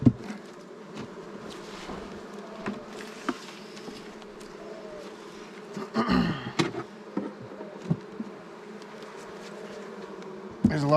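Honeybees in a beehive produce a steady, close buzzing hum throughout, with occasional louder flyby swells and light handling noises.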